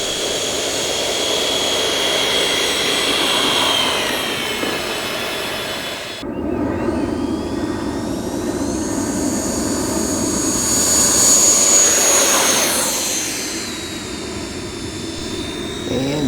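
Twin 80mm electric ducted fan jets on a Freewing F-14 Tomcat RC model roar in a steady high whine, cutting off abruptly then swelling again as the plane makes a loud close pass and fades.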